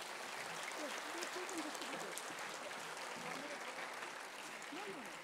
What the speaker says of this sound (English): Could we have the audience clap for them,